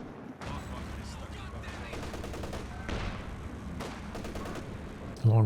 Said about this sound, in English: Going for a long-range Katyusha barrage onto the Ogres here.